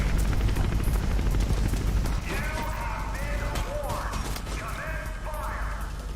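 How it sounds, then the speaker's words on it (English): A helicopter in the video game Mirror's Edge, a steady rotor drone with a rhythmic chop under music and game effects, later joined by faint tonal sweeps; someone talks over part of it. "Chopper spotted."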